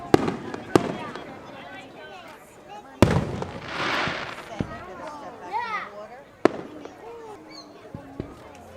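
Fireworks burst outdoors in several loud booming cracks with crackling trails, while people, including children, talk and call out in the background throughout.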